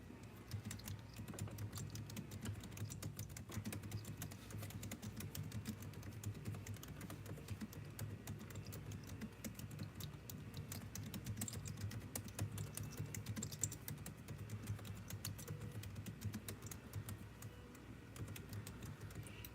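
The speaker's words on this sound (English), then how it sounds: "This live stream is all about typing" Computer keyboard typing runs steadily and close for the whole stretch, a dense, continuous patter of keystrokes at even loudness with no talking.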